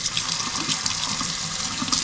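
Cold water runs steadily from a tap into a sink during jerky preparation, a close, continuous hissing splash with no talking.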